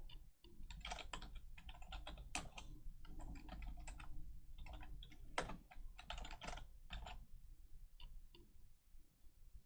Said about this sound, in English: While I type in a couple things